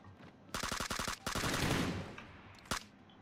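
Rapid bursts of automatic gunfire in PUBG PC Lite, a tight volley of evenly spaced shots followed by a longer sustained spray, then a single sharp shot near the end, loud and close with no talk.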